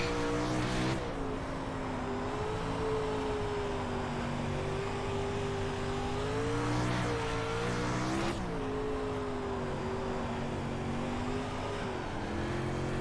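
A dirt-track race car engine in the iRacing sim drones steadily, its pitch swelling and dipping as the throttle is worked through slick corners, with a sharp upshift-like surge near the end and a tire-scrub hiss underneath.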